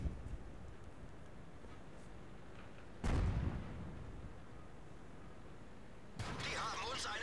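Tank cannon blasts in World of Tanks, an M3 Lee scoring a critical hit: one loud booming impact midway, then a second sharp burst near the end, over a steady low background rumble.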